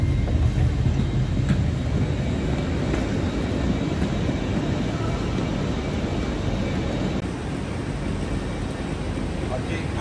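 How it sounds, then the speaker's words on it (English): A non-stopping train rumbles steadily through Paddington station, a loud continuous roar of wheels and engine that eases slightly toward the end. "Please stand clear of the edge of the platform as the approaching train does not stop here."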